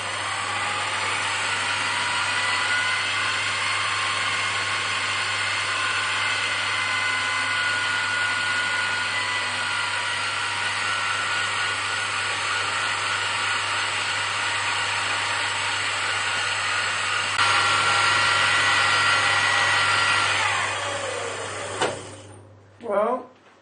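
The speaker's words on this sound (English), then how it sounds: "I think the kind of shrieking sound at high RPM is the gears in here rather than the bearings." Warco WM18 milling machine spindle spinning at high RPM, a steady loud whine with shrill tonal overtones from the gears that drops away as it spins down near the end, ending in a few clunks.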